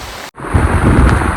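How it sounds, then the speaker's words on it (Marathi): Loud, dense roar of heavy monsoon rain close by on a trek at Sudhagad fort, briefly cutting out before surging back as a constant rushing wash. "एकदम खतरनाक आणि डेंजरवाला पाऊस लागला"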